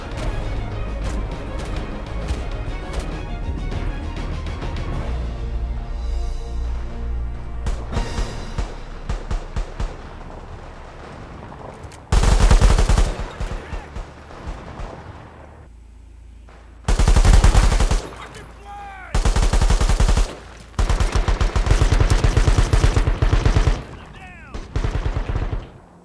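Artillery and gunfire in the video game World War 3, with rapid machine-gun bursts and heavy thumping blasts. Loud, close volleys come in several separate bursts with gaps between them, and game voices can be heard.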